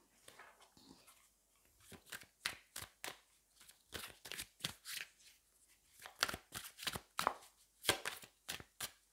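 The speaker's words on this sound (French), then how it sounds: "je vais aller reprendre une autre carte" Tarot cards are shuffled and drawn in a quiet room, a rapid series of crisp riffling and slapping bursts in uneven rhythm, close and fairly soft with brief pauses between.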